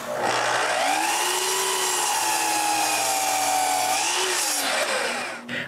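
A power saw cuts a glued-up maple panel to size in a woodworking shop, a loud continuous whine that dips in pitch as the blade loads through the wood, then eases off as the cut finishes.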